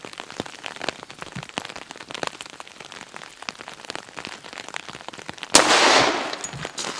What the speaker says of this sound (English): So our first shot of 45 ball ammo.